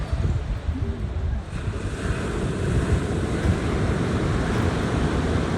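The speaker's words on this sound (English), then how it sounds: "It's kind of a nice place just to come and listen to the ocean." Steady ocean surf washes in continuously with gusting wind buffeting the microphone, a loud, unbroken roar with no voices.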